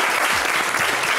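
Studio audience applause for a contestant on the TV talent show Vous Avez du Talent, loud dense clapping filling a short burst.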